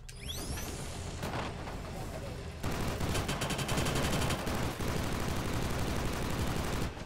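Turret gunfire from the shooter Killzone Shadow Fall during an online multiplayer match: dense, rapid automatic bursts roar continuously and grow louder and heavier partway through, with scattered heavier blasts.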